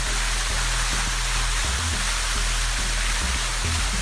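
Steady rushing roar of a waterfall at Khao Phai near Pattaya, a broad continuous wash of falling water filling the whole clip with no voices.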